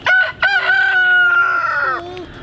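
A pet backyard chicken crows loudly and close up, one long drawn-out cock-a-doodle-doo call that trails off near the end, after a short opening burst.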